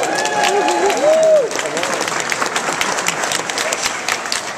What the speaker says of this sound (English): applause for Martin Wong